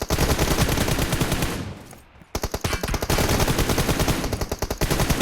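Rapid automatic gunfire from a video game plays loud and close in dense bursts, breaks off for a short lull, then resumes in sustained, rhythmic volleys.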